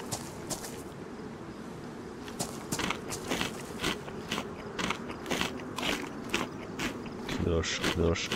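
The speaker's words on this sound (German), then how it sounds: "Wahrscheinlich isst sie die Packung mit, deswegen knirscht das so." Crunchy food being eaten by a character in the video game DayZ (version 1.21), a quick series of sharp crackling bites and crunches with footstep-like thuds, growing denser and louder toward the end.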